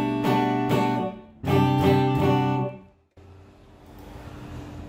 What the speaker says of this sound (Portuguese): aqui é o som da guitarra já sendo sem efeito nenhum na linha